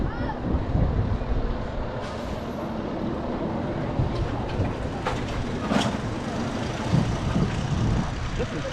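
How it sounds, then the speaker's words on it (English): Spinner roller coaster at Skara Sommarland, heard on board as steady loud rumbling and rattling of the cars on the track, with wind roar and occasional clatter throughout. "always fun to be on a roller coaster"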